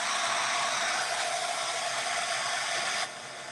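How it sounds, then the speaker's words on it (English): A hair dryer blows a steady, loud airy roar while drying Chalk Couture texture paste, continuous for a few seconds before dropping to a quieter hum near the end. "And I'm going to actually dry this real quick."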